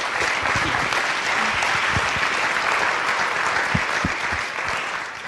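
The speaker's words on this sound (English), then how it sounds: "Let's give them a round of applause" An audience at a motivational talk breaks into a full round of applause, a steady, dense wash of many hands clapping for several seconds with no voices over it, easing slightly toward the end.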